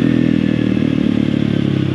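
A motorcycle engine drones steadily as the rider downshifts and slows, with a rough, throbbing low rumble and light mechanical clatter, close and continuous without pause.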